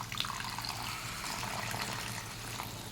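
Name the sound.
adding water to egg masala curry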